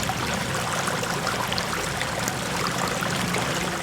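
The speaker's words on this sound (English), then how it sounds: "the last one is water running across rocks, and that is the least amount of sound." Water running over rocks in a garden waterfall, a soft, steady trickle that stays even and unbroken throughout with no voices.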